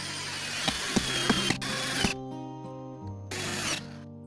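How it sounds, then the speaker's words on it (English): A power tool drives screws into a wooden pool filter box frame: whirring motor bursts with clicking ratchet ticks, then a long higher whine with pauses, close and loud. "She fastens the box together, demonstrating her skill with power tools."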